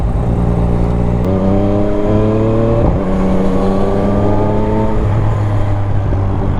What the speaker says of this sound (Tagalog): Naka Akrapovic carbon fiber exhaust.